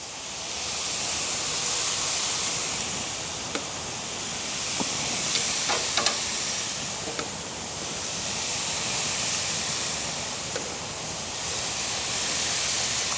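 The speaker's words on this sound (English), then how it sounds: "I love that sound of meat sizzling on the grill." Steady sizzling hiss of meat cooking on a barbecue grill, continuous and fairly soft, with a few faint pops and ticks scattered through.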